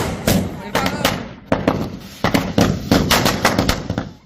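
Firecrackers burst in rapid, irregular volleys outside Bilkis Bano's house in Devgarh Baria, Gujarat, during a celebration, sharp loud cracks clustering and overlapping with crowd voices beneath.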